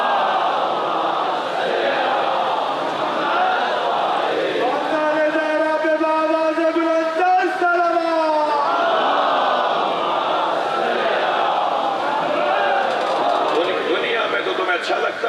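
Crowd at a majlis in Nishtar Park, Karachi, chanting salawat aloud together in a sustained, tonal swell of many voices lasting a few seconds, set between stretches of an amplified speaker addressing the gathering.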